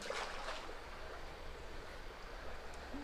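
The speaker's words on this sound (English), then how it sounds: "just basically a trickle of water coming into this nice little deep pool" A small creek trickles into a deep little pool, a soft continuous watery hiss heard close but faint, with no one talking.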